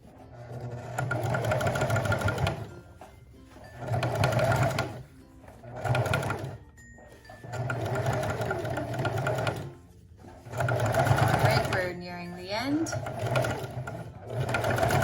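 A sewing machine stitches a dress bodice seam in several steady runs of close mechanical whirring, stopping and starting between passes, with a voice talking during the pauses.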